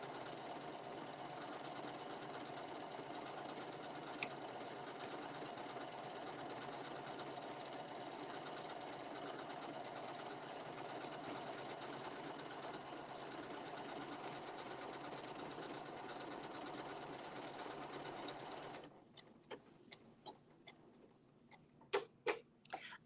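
A sewing machine runs steadily for free-motion stitching, set going with its start-stop button: a fast, even mechanical whir held for nearly twenty seconds, then it stops, leaving a few faint clicks and taps.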